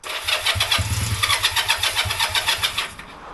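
A Honda CM200T motorcycle engine cranks with a rapid, rhythmic starter churn and rough low pulses, turning over about a dozen times close by before slowing at the end.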